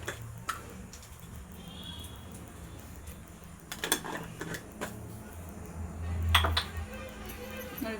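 Two or three cardamom pods pounded into fine powder in a kitchen, scattered sharp taps and knocks over a low background hum, with a few louder strikes near the end.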